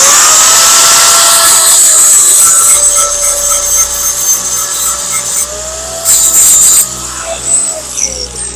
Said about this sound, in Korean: 두 가지 방법을 다 선택해가지고 여러분들이 그라인더를 하실 수 있습니다